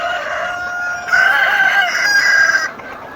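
At a poultry seller's, chickens call loudly and close by, with a rooster's drawn-out crow rising over overlapping clucks and squawks, then fading toward the end.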